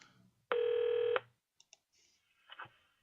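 A telephone dials out to call someone, giving one long touch-tone beep, then a couple of faint clicks and a short, muffled ringback tone, alone with no talk.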